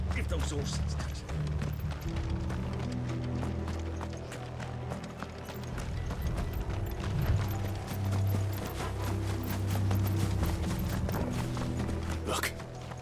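Horses' hooves clip-clopping in Final Fantasy XVI, a steady rhythmic trot under a rumbling game score and mechanical clatter, with characters speaking over parts of it.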